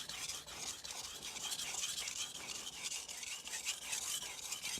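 An Aogami steel knife being sharpened on a Morihei Hishiboshi whetstone makes a soft, steady rasping rub in repeated strokes, quiet and close with no talk over it.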